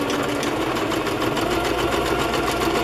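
A sewing machine runs a steady straight stitch on vintage fabric, its motor whirring continuously with a fast even needle rhythm, close and alone.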